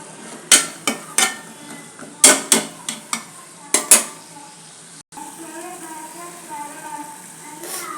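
Chickpeas for chana masala fry in a pan while a metal spoon stirs them, giving a run of sharp, close clanks and scrapes over the first four seconds. A quieter, steady cooking noise follows, and a voice may be faintly audible.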